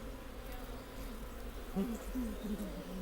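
Honeybees at a hive give a steady, close, low drone, with a few louder wingbeat buzzes passing near; voices speak quietly in the background.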